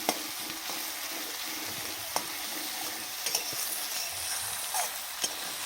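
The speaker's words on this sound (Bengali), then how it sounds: "সব একসাথে ভালো করে একটু তেল দিয়ে ভাজা ভাজা করে নিচ্ছি।" Mixed village-style ingredients fry together in oil, giving a continuous close sizzle with occasional sharp crackles and clicks of stirring, steady and uninterrupted by speech.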